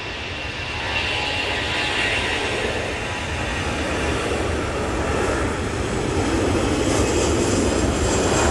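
Malaysian Airlines jet airliner at Manchester Airport roaring steadily down the runway, a loud broadband engine rush that swells and holds throughout, with no talk over it.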